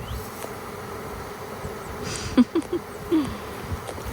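Honey bees buzzing steadily in a queenless hive, a dense close drone with a few louder bees passing near the end, no talking.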